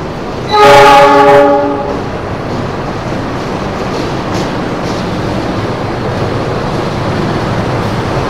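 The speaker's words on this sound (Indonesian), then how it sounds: "Nah ini keretanya baru sampai di stasiun Tawang Semarang" A loud train horn blares briefly, then a passenger train arriving slowly at Semarang Tawang station rumbles on steadily with a low, continuous rolling noise.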